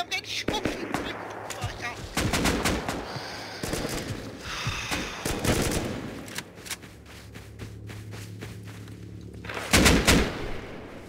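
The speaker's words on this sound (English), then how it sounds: "I'm down again, I'm getting shot!" Bursts of gunfire in the online survival game Rust crack in rapid clusters between quieter gaps, with heavier volleys near the end.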